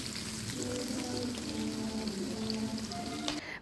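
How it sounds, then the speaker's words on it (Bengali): Onions frying in hot oil for a paneer curry, giving a steady dense sizzle and crackle that holds evenly throughout with no talk. "এখন এই তেলের মধ্যেই আমরা ভেজে নেব পেঁয়াজ।"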